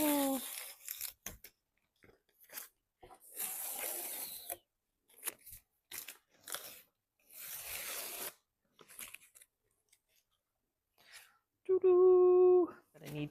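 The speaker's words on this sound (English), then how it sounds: "the satisfying of taking the tape off" Painter's tape is peeled off a painted thrift-store upcycled piece in short bursts of crackly tearing, close and separated by silences, with a voice humming near the end.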